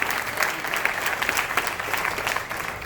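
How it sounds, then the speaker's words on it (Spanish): Church congregation applauding loudly during a Spanish-language sermon, a dense, steady wash of clapping that fills the whole stretch without pause. "Den un fuerte aplauso a la palabra"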